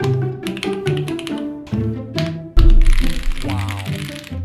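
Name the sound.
typing on custom mechanical keyboard with upgraded switches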